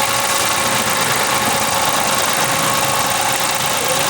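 A Suzuki Mehran car engine idling with a vibration problem, a steady loud hum and rattle held without change throughout, close up and with no talk.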